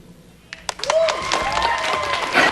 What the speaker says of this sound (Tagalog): Magpalakpakan tayo mga kapuso!